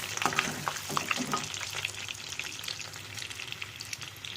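An egg fries in a pan for an egg curry with masoor dal, giving a fairly soft, continuous crackling sizzle with scattered pops, close by and without any talk.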